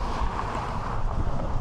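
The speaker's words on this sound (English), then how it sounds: "I said it wasn't very windy, but I'm struggling now to talk to you" Strong wind buffets the microphone on the Golden Gate Bridge, a loud continuous rushing roar with low gusty rumble and no pauses.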